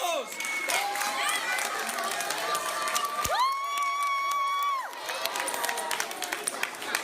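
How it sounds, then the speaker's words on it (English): An audience at an education conference session cheers and applauds, with high children's shouts, a long sustained whoop in the middle and scattered clapping forming a lively, fairly close wash of sound. "Give a round of applause."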